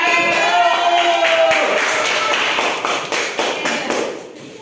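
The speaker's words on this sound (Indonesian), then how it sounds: "tepuk tangan untuk kita semua" A junior high school classroom in Indonesia bursts into clapping, with students' voices at first and then a run of close, uneven claps and taps that thin out toward the end.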